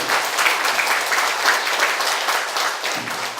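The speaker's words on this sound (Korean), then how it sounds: "큰 박수." A congregation at a combined worship service at Daejeon Jungmun Church gives loud, sustained applause, an even roar of many hands clapping that holds steady throughout, with a faint tonal voice creeping in near the end.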